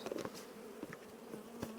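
Bees buzz during a varroa mite check at a hive, faint intermittent humming with a few short louder passes close by.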